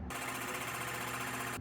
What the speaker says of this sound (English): I'm just drilling holes in the corners and then we'll cut it out